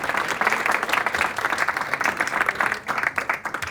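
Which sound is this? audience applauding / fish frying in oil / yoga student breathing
audience applauding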